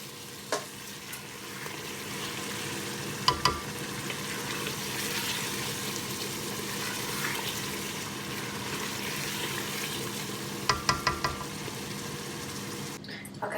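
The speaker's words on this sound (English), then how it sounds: "Now I'm going to be adding in some dried methi, that's fenugreek, and mix that really well." Kofta curry frying as dried fenugreek is stirred in, giving a steady soft sizzle with a few sharp utensil taps against the pan.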